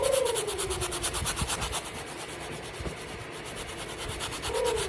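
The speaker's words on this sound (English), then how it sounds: "Now you're gonna take your brush and just kind of scrub at it." A brush scrubs a sneaker lathered with a squirt or two of shoe cleaner, giving a steady close-up rubbing and scraping texture with brief dips, heard alone without talk.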